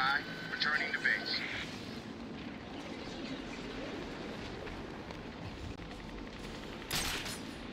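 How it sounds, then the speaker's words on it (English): Enemy gunfire in Batman Arkham City, rapid bursts and scattered shots amid a busy game soundscape with a rumbling background, voices talking over it. "They start shooting me when I get spotted by them."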